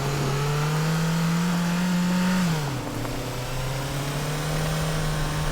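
A car in the Teardown video game drives off and accelerates, its engine droning steadily, then dipping in pitch midway and settling into a steady hum, loud and unbroken with no talk over it.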